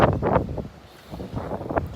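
Strong gusty northeast wind at a pier buffets the microphone in loud, uneven bursts with a brief lull in the middle.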